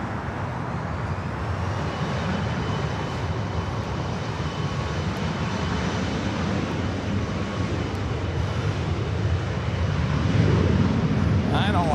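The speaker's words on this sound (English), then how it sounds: "the Delta 757-300 in that long line of takeoffs here on the north side" A Delta 757-300 and other airliners take off one after another from the north side of LAX. A broad, steady jet roar with wind buffeting on the microphone holds throughout.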